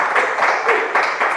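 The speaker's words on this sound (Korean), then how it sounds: "이 대목에서는 제가 한번 혼자 박수를 좀 치겠습니다" One person claps alone during an interview, a quick, even run of sharp hand claps close to the microphone for just over a second.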